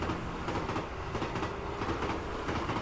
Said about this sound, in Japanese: エリアの卵を除去するクリーン電車通っていた今